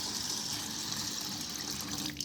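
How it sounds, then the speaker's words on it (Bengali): Clean water pouring steadily over washed dosa ingredients to soak them, a continuous close gushing splash. "এরপর পরিষ্কার জল দিয়ে ভিজিয়ে রাখবো।"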